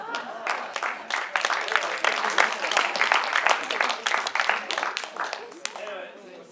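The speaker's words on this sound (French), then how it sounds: "vous allez pouvoir applaudir mon parrain, Yvon." Audience applauding at an evening veillée gathering in Plouagat, Brittany: dense, steady clapping from a crowd sustained for several seconds, with voices mixed into the applause.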